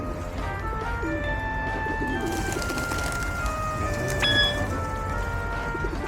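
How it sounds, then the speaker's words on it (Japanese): Pigeons coo softly in a public square in Kunming, Yunnan, their low repeated calls steady against a hiss of rain-like background noise and faint ambient bustle. "ここの鳩はなんか種類が違うのかわからないですけど、"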